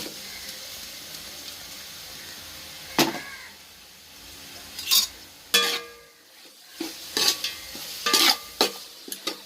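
Onion, green chili and ginger garlic paste sautéed for mutton biriyani, a soft steady sizzle under repeated spoon scrapes and stirring knocks against the pan.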